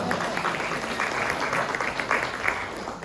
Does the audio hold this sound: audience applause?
yes